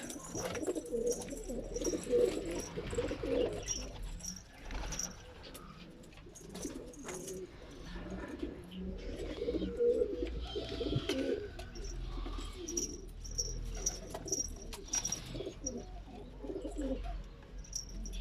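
Pigeons in a loft coo in low, soft, repeated throaty calls, several birds overlapping at close to middle distance, with occasional faint rustles and chirps and no talking.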